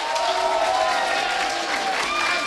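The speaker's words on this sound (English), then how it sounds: "give one big cheer for the underdog before we go to the commentators" A live crowd at a StarCraft 2 esports grand final claps and cheers in a dense, steady wash of applause that holds loudly throughout without a break.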